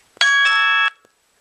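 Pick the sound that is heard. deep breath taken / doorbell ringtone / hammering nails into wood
doorbell ringtone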